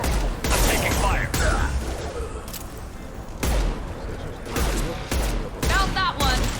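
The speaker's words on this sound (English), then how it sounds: "I'm taking fire." Gunfire in Mass Effect 2 combat, with repeated bursts of shots and blasts over a dense rumble of battle noise and voices throughout.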